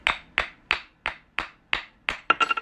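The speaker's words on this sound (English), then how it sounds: "I'm going to use a plastic hammer because metal on metal is a bad idea" Eight sharp knocks at a steady rhythm, a plastic hammer striking a metal coin ring up close, the last few blows quicker with a faint ringing tone.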